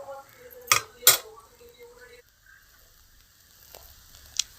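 Kuska being stirred in a cooking pot with a metal spoon, two loud clanking scrapes near the start followed by quieter clinks and a lid being set back on, no talking.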